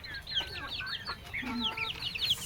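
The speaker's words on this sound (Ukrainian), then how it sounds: "Це теж оце півник, напевно." Several Chinese silkie chickens cluck and chatter close by in a continuous, overlapping burst of short squawky calls.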